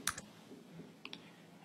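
A few faint, quick clicks of keys being typed on a computer keyboard, sparse and close in a quiet room.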